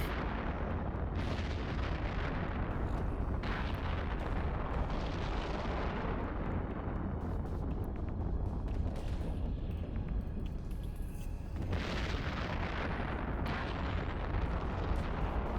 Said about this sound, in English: There's some missiles going off.